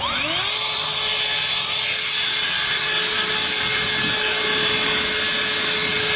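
A Kobalt cordless leaf blower spins up with a rising whine, then holds a loud, steady, close-range whir of high tones over a rushing airflow hiss for several seconds.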